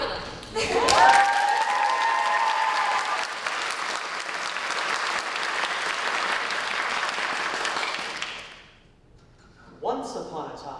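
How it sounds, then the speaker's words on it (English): A school theater audience breaks into loud applause for the student cast, with whoops at the start, sustained steady clapping for about eight seconds, then fading away before singing or voices begin. "please clap really loud for them"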